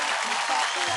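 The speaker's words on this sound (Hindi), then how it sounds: "जोरदार तालियां, एक्स्ट्रा चीज।" A studio crowd at the Star Ya Rockstar talent show claps loudly in a brief, dense burst, with a voice faintly audible beneath.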